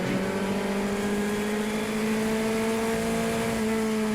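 A vintage race car at the 2016 Palm Beach Road Race Classic, its engine held at high revs near the rev limiter through a corner, a loud, close, steady drone with a sustained high pitch.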